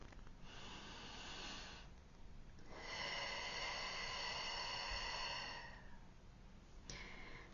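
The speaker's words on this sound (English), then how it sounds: "Take a deep breath with me." A slow, deep breath taken close to the microphone, with a long airy inhale followed by a long exhale, then the start of another breath, soft but clear in a quiet room.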